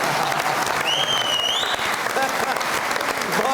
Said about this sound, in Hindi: बहुत सारी तालियां आदिल खान के लिए।